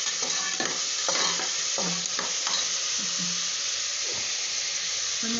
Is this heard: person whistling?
no